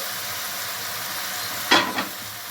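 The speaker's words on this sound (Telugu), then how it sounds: "మూత ఓపెన్ చేసి ఒకసారి మొత్తం కలుపుకుంది" Steady hiss of mutton curry with tomatoes and cucumber cooking in a pan, then a sudden lid-lifting clatter and two quick stirring scrapes near the end.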